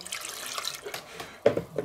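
Water pours from a tap into a bowl of potato-powder fries batter, a soft splashing trickle with a few louder gurgles near the end.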